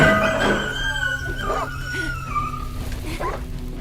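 A dog in the 7 Days to Die video game whimpers and howls in a string of wavering, rising and falling cries, loud and near, with faint background noise beneath.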